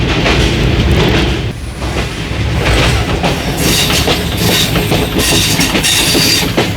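Train entering the Sanjani tunnel, heard from on board: loud, continuous rumble with rhythmic wheel clatter and occasional high squeal as the carriage roars through, with no voices.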